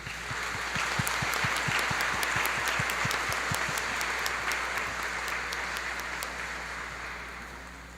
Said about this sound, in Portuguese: Aos nossos irmãos e a Cristo Rei, uma salva de palmas